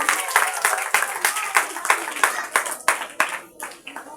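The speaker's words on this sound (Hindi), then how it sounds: "तालियां बच्चे के लिए।" Audience clapping for a child performer at a children's 14 August program, a loud, dense burst of claps with sharp rhythmic peaks that thins out toward the end.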